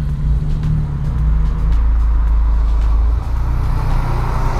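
A white Porsche 911 GT3 RS with a large rear wing drives past, its engine a loud steady roar with a deep low rumble that swells and holds before easing slightly.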